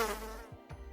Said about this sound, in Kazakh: dungfly.